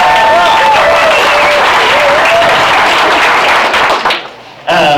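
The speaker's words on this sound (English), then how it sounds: "And now give me more applause," A crowd at an electric-vehicle event in Austin, Texas claps loudly and continuously over a short voice, with the applause cutting off abruptly near the end before the speaker resumes talking.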